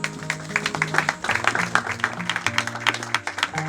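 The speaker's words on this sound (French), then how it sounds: "On va l'applaudir encore une fois." An audience applauds a speaker at a personal development training workshop, with steady rhythmic clapping over sustained background music tones.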